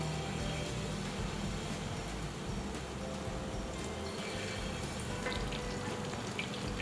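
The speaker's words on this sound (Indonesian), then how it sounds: "Goreng di minyak panas." Tempeh pieces coated in a thin flour batter frying in hot oil, giving a steady, close crackling sizzle that runs on evenly with no talk over it.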